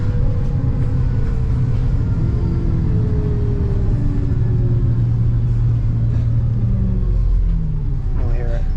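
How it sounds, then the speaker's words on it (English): Heard from on board a VDL DB300 Gemini 2 bus in Merseyside: a loud, steady low engine rumble close by, with whining tones that rise and fall as the bus pulls away and picks up speed, running continuously throughout. "We'll hear it accelerate away in a second."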